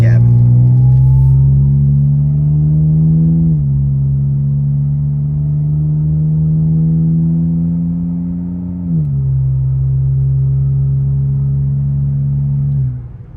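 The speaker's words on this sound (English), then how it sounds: "I'm gonna give it a little juice so you guys can hear that V6 from inside the cabin." A Pontiac G8 V6 engine revved and heard from inside the cabin: a loud, rising engine drone climbs in pitch, drops back, then climbs again through several rev sweeps before settling near idle.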